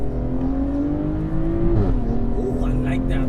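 A BMW M340i, fitted with XHP, accelerating from inside the cabin: the engine tone climbs steadily, drops briefly at a shift, then rises again, loud and close, with someone talking over it.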